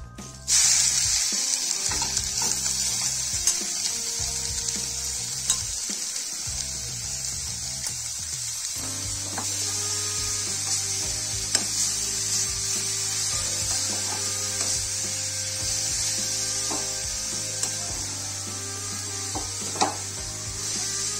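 Grated carrots, four or five of them, stirred in hot ghee over low flame for carrot halwa, a steady soft sizzle with scraping and rubbing of the spatula against the pan, continuous and close.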